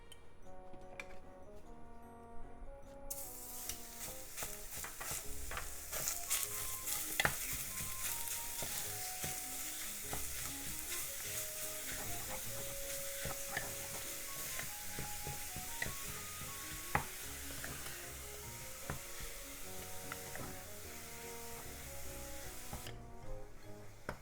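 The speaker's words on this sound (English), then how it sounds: "Heat up a pot over medium heat and let's cook the pork" Pork sizzles in a pot without oil over medium heat, rendering its own fat with a steady, bright hiss and a quiet background of crackles, while faint music plays underneath.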